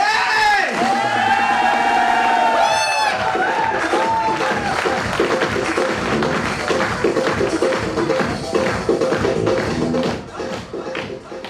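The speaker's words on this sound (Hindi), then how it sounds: "एक बार जोरदार तालियां जितने भी स्पीकर्स आए थे उन सभी के लिए दोस्तों" A seminar crowd breaks into loud applause and cheering for the speakers after a voice on a microphone, a dense clapping roar that holds steady and then thins toward the end.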